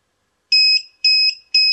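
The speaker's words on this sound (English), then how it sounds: "and it will give you an audible alarm as well." A CTC series dry-block temperature calibrator sounds its stability alarm as three evenly spaced electronic beeps, loud and clear against silence.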